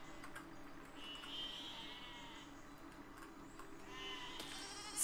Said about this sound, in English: Oh, sheep. Lots and lots of sheep.